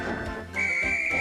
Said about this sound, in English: But when the guard's whistle blew